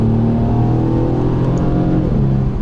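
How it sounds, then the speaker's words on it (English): A Mercedes C300 4MATIC four-cylinder engine revs up steadily and loudly inside the car on all-season tires, a smooth continuous drone that rises in pitch toward the end with no talking. "For only a 4-cylinder, it does have a nice sound to it."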